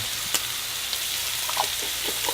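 Shrimp frying in a hot pan, a soft steady sizzle with faint crackles and a few light pops, low and even throughout with no voices.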